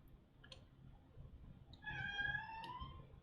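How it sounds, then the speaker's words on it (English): A pet cat gives one clear, drawn-out meow close by in a quiet indoor room, preceded by a couple of faint ticks. "That's my kitty, Francis."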